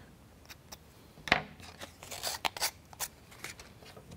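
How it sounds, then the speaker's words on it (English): Small plastic burrs being snipped off a model car kit part for a U-9 Grand Prix car, with a few sharp clipping snaps followed by faint crunching and scraping noises, close and quiet. "Cut off the burrs, if any."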